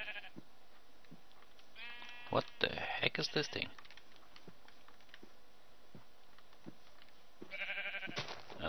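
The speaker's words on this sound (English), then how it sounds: "And why is there sheep standing around looking at it?" Sheep bleat in modded Minecraft: two short, fairly close bursts of bleating, the first near the start and another near the end, with someone talking over the game between them.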